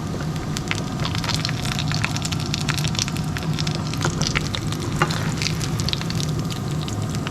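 Steady crackling sizzle of fish frying in hot oil, dense popping throughout, close and continuous with no talking.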